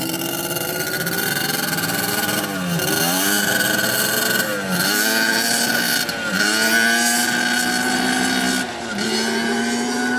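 A Banshee ATV rides off down the road, its engine revving loudly and steadily, with pitch climbing and dropping at each of several gear shifts. No one talks over it.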